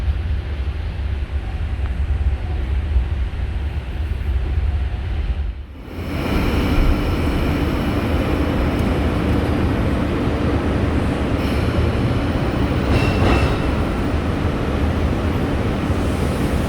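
A Sydney C-set train runs out of a tunnel into Circular Quay Station, a steady loud rumble of wheels and motors with a brief dip around the tunnel exit, then continuous rolling noise.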